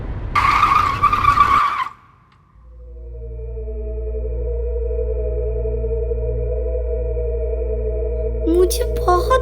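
A car brakes hard and skids with a loud tire screech in a Hindi horror animation; the squeal cuts off into a near-silent pause, then a steady low engine hum and tonal drone hold until another short screech near the end.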